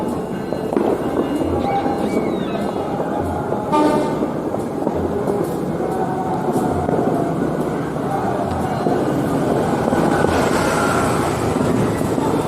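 Horns of CC206 diesel locomotives blaring at New Year in Surabaya, loud overlapping honks over a dense wash of crowd noise, fireworks and rail rumble, continuous throughout.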